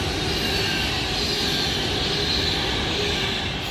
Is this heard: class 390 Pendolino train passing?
yes